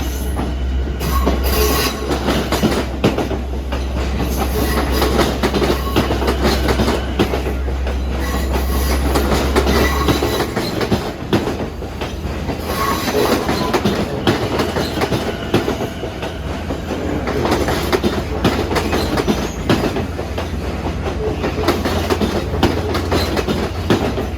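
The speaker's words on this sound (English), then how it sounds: "here's 2926 from Atlantic Terminal arriving on track 5 with M9s" LIRR M9 commuter train arriving at Jamaica station, a loud continuous rumble of rolling wheels with rhythmic clicking over rail joints and occasional squeals, close by on the platform.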